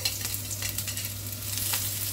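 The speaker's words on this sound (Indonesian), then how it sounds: "Kita tumis dulu ini bawang merah dan bawang putihnya ya." Shallots and garlic sauté in a modest amount of oil in a pan, giving a soft, steady sizzle with faint scraping stirs, heard alone and close.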